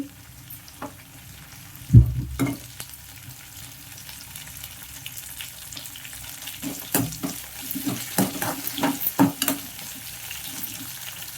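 Ingredients for a tomato chutney fry in a pan, a steady soft sizzle broken by a sharp clatter early on and a run of stirring scrapes and taps toward the end, close up, with no talking.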